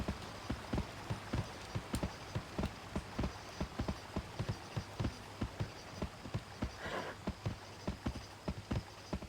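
A horse's hooves clip-clop at a steady, regular gait in a video game, close and even, with no talk.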